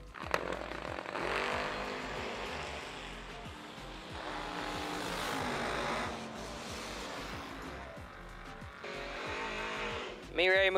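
Drag race cars launching and running down a strip at a dial-in bracket event, loud engine roar rising and falling over several seconds, while an announcer talks over the noise.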